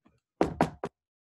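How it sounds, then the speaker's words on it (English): Three sharp knocks on a door, close and loud, come in quick succession, two evenly spaced and a third slightly delayed, with silence around them. "Suddenly, there was a knock on the door."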